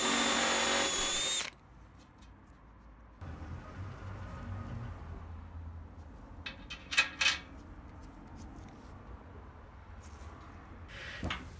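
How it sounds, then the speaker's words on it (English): A power drill with a step bit bores out holes in radiator mounting fins, whining loudly at first, then running in quieter, shorter bursts with some clattering in a workshop. "I'll use a step drill to open them up to size."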